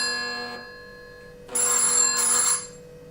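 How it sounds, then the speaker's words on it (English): Two bursts of a high, bright electronic ringtone from a 9Tong Q90 kids smart watch, close by, with a short quiet gap between them. "So you can see that it's ringing the watch now."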